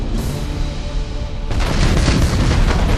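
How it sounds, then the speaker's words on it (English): Spaceship weapons in the Battlefleet Gothic Armada game open fire, a loud, dense rumbling barrage that swells into a sustained roar of booming blasts. "Fire all weapons."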